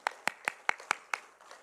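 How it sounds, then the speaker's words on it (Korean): Congregation clapping in a church, about six sharp, evenly spaced claps in quick rhythm, fairly close and moderately loud, with no talking over them. "그러니까 영광의 박수 올려드리기 원합니다."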